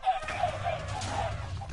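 Many chickens in Minecraft cluck and squawk together in a flock, overlapping short calls over a low steady hum, fairly close and continuous.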